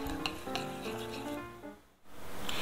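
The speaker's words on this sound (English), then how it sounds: "this is a tablespoon of poppy seeds. We'll just stir those around." A spoon stirs a tablespoon of poppy seeds into an oil-based salad dressing, giving a soft scraping, rubbing swirl with light tapping at the start, then quieting briefly before resuming.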